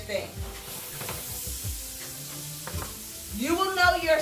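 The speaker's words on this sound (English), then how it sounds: "Put that in the pan. A little more. Stir, stir, stir your grits." Grits sizzle in a hot pan while a utensil stirs them, giving a steady frying hiss with scraping strokes. The sizzle swells louder near the end, and a voice is faintly present.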